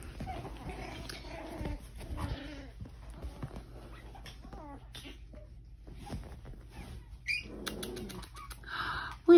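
A Yorkie puppy gives faint, intermittent high whimpers and squeaks amid soft rustling and scattered thumps in a quiet indoor room.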